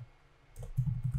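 A command being typed on a computer keyboard, a short run of soft, close key clicks after a brief quiet moment.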